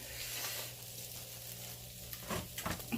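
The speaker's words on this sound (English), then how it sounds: "So I'm just sauteing this." Food sautéing in a pan sizzles quietly and steadily, with a few stirring scrapes and clatters near the end.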